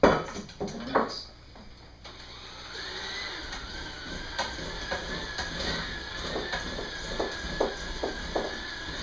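Cookie bar dough being stirred in a bowl, a scraping, clattering mix of utensil against bowl with repeated strokes, close and fairly loud, no talking.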